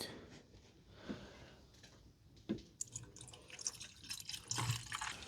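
Halfords nap-free coolant poured into the coolant reservoir of a BMW 335i wagon, heard as soft trickling and dripping liquid with scattered small splashes and gurgles, fairly quiet and close, with no talk.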